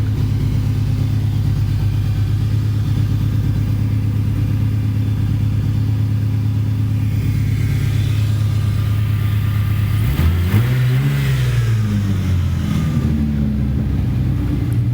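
A budget-built V6 Mustang engine idles with a steady, nice-toned rumble, then blips into a rising and falling rev around the middle, close and loud throughout.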